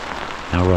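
Steady rain patters on a surface at a remote mountain campsite in spring, a soft even hiss that swells louder partway through, with no voices over it.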